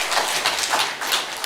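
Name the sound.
congregation applauding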